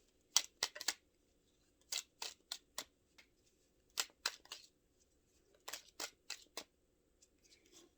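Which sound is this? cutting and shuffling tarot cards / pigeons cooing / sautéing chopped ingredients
cutting and shuffling tarot cards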